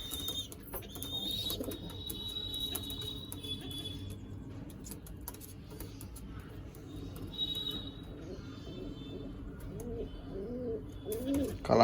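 Pigeons coo steadily among a domestic flock kept for sale, with a low murmuring drone under occasional short high chirps, fairly close and continuous throughout.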